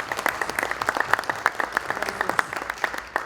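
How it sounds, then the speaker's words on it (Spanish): An audience applauds the legal director at a business conference, a steady patter of many hands clapping together throughout, with a faint voice in the background. "ya le pido que le den un aplauso"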